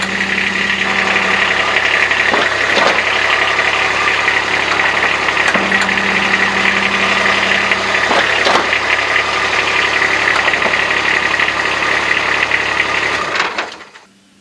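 A Kubota RTV-X1140 side-by-side runs at a steady idle for about thirteen seconds, a close, even mechanical drone with a few faint knocks, before the engine shuts off and the sound drops away at the end.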